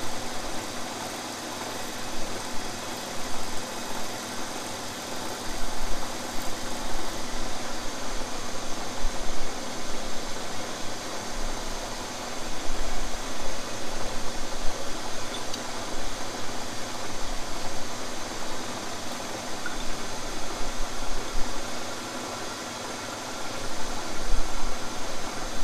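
A flap wheel on a drill hones the cylinder bore of a 440 Source 543 cubic inch stroker engine block, giving a continuous, even, hissing whir with a faint rumble beneath it. The sound runs without a break and there is no talk.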